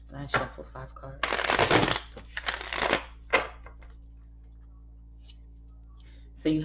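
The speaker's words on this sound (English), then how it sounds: "Last shuffle, 5 cards." A deck of tarot cards is shuffled in several quick, close riffling bursts of papery flutter, with brief quiet gaps between and near-silence toward the end, a last short burst closing the clip; no one speaks.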